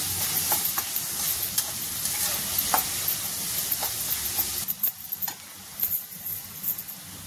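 Mixed vegetables for veg fried rice are stirred in a hot pan, a loud continuous sizzle broken by regular scraping and knocking strokes of the spoon, close up and without talk.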